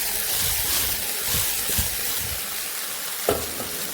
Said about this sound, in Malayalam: നമ്മൾ വഴറ്റിയ കോവയ്ക്ക ഉണ്ടല്ലോ, ഇത് മൂത്തിടുകയാണ്